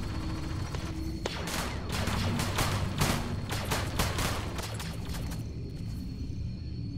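Gunfire aimed at zombies in a military simulation video game, heard as a rapid, sustained fusillade of shots over a low rumble, loud and continuous for most of the stretch before thinning out.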